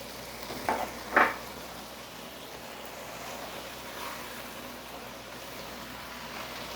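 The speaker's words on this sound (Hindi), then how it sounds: "अब हम मसाला तो तकरीबन हम रेडी कर चुके हैं, भुन गया है, ऑयल इसका अलग हो गया" Biryani masala of ground spices, star anise, clove and nutmeg fries in separated oil with a steady, soft sizzle. Early on, two brief clinks of a spoon against the pot stand out, and the frying continues evenly and faintly.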